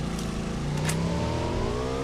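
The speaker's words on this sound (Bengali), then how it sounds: "তো আমার টিমমেট দেখো বাইক চালাইতেছে।" A motorbike engine in a mobile battle-royale shooter game revs and drones steadily, its pitch rising as the bike accelerates, loud and close with no voices over it.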